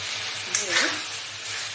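Fried pointed gourd and tomato sizzle in a pan, a steady bright hiss with a faint stir or scrape in the middle, while a voice speaks softly underneath.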